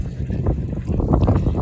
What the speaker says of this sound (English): When it is windy like this, you guys, it is movement.